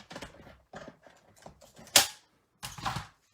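A paper trimmer slices through cardstock for a folded greeting card, giving a handful of sharp, close cutting and clicking strokes at an uneven pace with short pauses between them.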